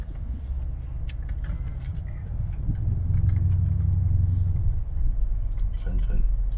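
A Mercedes GLE drives along with a steady low engine rumble and road noise inside the cabin, swelling slightly midway, while muffled voices talk over it.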